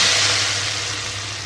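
Hot oil sizzles steadily with white cumin seeds and four whole round dried red chillies, a continuous hissing crackle of tempering for mash (urad) dal.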